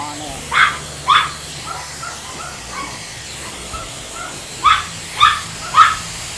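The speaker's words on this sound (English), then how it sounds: "The puppies are barking." Small puppies give a few high, yappy barks in pairs, moderately close, over the steady rushing hiss of a running CoShare SuperFlow1 hair dryer.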